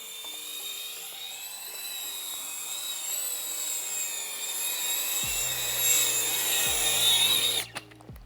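An FPV drone fitted with a DJI O3 Air Unit whines with high buzzing propellers that drop as it sets down, followed by a few low thumps and a clattering touchdown at the end.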